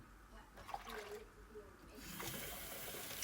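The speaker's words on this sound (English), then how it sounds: "3/4 of this cup for this bowl, and then I'm gonna put more water." Water poured from a cup into a bowl, a faint, steady pour with running-water texture, heard under quiet talk nearby.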